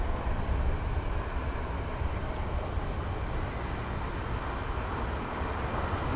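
A Qatar Airways Airbus A380 at Heathrow, heard as a steady, broad low roar of jet engines at a distance, constant in level with no voices.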